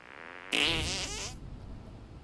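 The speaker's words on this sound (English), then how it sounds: "Make your fart detonate behind me." A cartoonish, wet fart sound effect from the South Park video game bursts out after a short pause, warbling for about a second before fading into quiet background noise.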